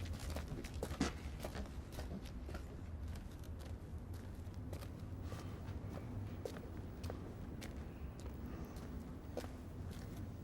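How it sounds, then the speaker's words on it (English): Footsteps crunching through snow, heard in a suspense scene of the film Let the Right One In, as a steady run of crisp, close steps over a low ambient rumble, with no voices. "The sound of the footsteps in the snow is often associated with suspense, mystery, and fear"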